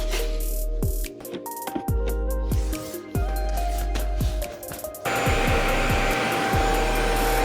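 A robot vacuum runs inside a workshop, giving a steady close whir broken by repeated sharp clicks and knocks, then a louder, rougher hiss takes over partway through.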